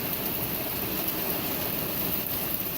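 Hail pelting down through garden plants and zucchini in Fort Erie, a dense, steady hiss of countless small impacts with no clear gaps, fairly distant and even throughout.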